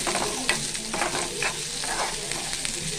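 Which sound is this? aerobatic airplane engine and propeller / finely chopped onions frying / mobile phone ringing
finely chopped onions frying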